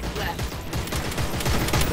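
Rapid bursts of gunfire crackle from the browser MOBA game Merc Elite, dense and continuous over game music and effects, with someone talking briefly under the shooting.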